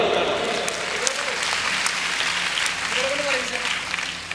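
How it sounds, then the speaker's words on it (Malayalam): Participants at a teachers' training session clap together in sustained applause, close and fairly loud, while voices speak over the clapping. "ഒരു നല്ല കൈയടി കൊടുക്കാം കേട്ടോ"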